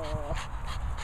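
A French bulldog pants in quick, steady breaths close by, with a brief whimpering whine near the start, while a person talks over it.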